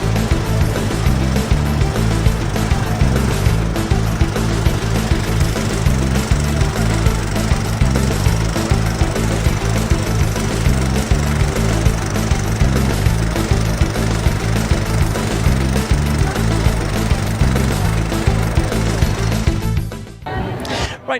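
A spring-loaded power hammer strikes hot metal on an anvil at a heritage craft show in Castleblayney, pounding in a rapid, relentless loud rhythm for the whole stretch, with voices mixed into the din and the blows stopping just before the end.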